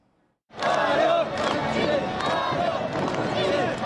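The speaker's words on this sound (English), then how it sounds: "Crowds of North Koreans cheer on the streets of capital Pyongyang" A large crowd of North Koreans cheers and shouts loudly and continuously in the streets of Pyongyang, a dense roar of many voices rising abruptly after a brief quiet start and sustaining at full strength.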